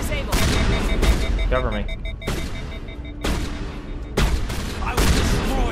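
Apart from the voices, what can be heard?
shotgun fire in the video game Mass Effect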